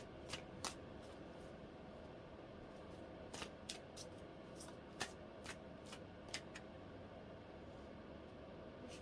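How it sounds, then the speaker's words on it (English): Cards are shuffled quietly at close range, a soft continuous riffle with a few sharper snaps and flicks scattered throughout. "Just shuffle really good"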